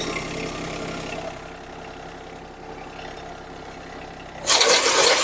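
A tractor engine idles steadily beside an IBEX TX31 net wrap baler, then the power take-off engages near the end and a louder, broader whirring roar of the driven baler suddenly joins the drone.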